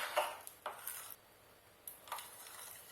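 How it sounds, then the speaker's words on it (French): A spoon scraping and knocking in a bowl while date-spread ingredients are mixed together, a few quiet, close clinks and scrapes separated by a short silent pause. "Donc là, on remue le tout."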